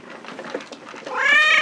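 A cat gives a short, rising meow that ends on a clear tonal wail, close and fairly loud after a moment of softer rustling.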